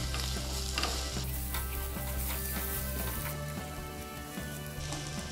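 Aloo gobi, potato and cauliflower, frying with salt, coriander powder and garam masala while being stirred, a dense close sizzle with repeated scraping and clattering of a spoon against the pan.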